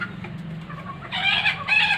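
Local laying hens in a village yard cluck softly at first, then break into two louder bursts of agitated clucking and crowing-like calls near the end.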